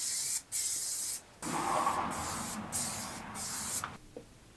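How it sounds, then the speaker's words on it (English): Clear coat is sprayed from a can onto a bicycle frame in several hissing bursts separated by short pauses, close and fairly steady, with the longest spray in the middle. "to finish up the awesome paint job, I did 3 coats of clear coat over the frame."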